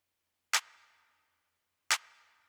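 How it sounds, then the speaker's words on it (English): Two sharp electronic claps, evenly spaced about a second and a half apart, each with a short bright reverb tail fading out. "I moved on to the drums and just started with a clap pattern,"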